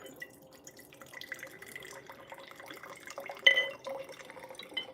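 Red wine vinegar is poured into a measuring cup in a home kitchen. The trickle and drip of liquid are quiet and close, with small glassy clinks and a brief louder splash near the end.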